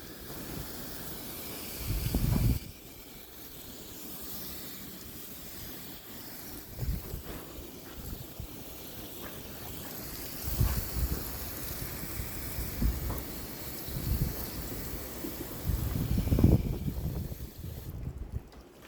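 Water mist sprays onto a bonsai tree outdoors, a soft hissing rush that comes in several separate bursts amid breezy background noise.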